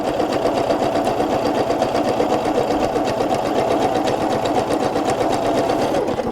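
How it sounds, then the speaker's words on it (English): A PFAFF ambition 610 sewing machine stitches an applique patch, running in a fast, even, continuous mechanical whir with a rapid needle rhythm throughout, close and clear with no talking. "I'm going to sew all the way until I get to the end of the patch into my applique."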